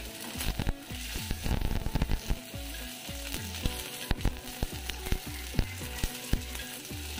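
Garlic cloves fry in a little oil for a crispy green chilli kharda, giving a steady close sizzle broken by irregular stirring scrapes and clinks.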